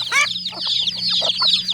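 Free-ranging farm chickens cluck and chatter close by during an evening feeding of unhusked paddy rice, with short overlapping calls, a steady high twittering and a faint low hum underneath.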